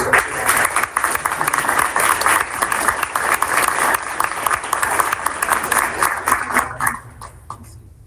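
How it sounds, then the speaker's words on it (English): Sustained applause from a room full of people at a school board meeting honoring teachers, steady dense clapping that carries for about seven seconds before tapering off quickly at the end. "one more round of applause for the teachers"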